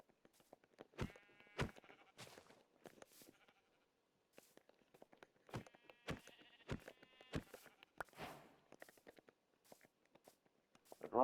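Sheep bleating in the Minecraft video game, several short nasal bleats scattered across the clip at moderate loudness, with soft footstep-like taps between calls and no talking.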